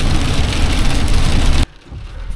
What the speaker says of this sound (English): I think it's turned into rain